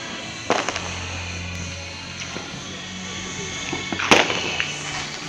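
New Year's Eve fireworks outdoors: sharp cracking bursts crackle early and again near the end, with scattered pops between, over a steady background hum and faint crowd noise.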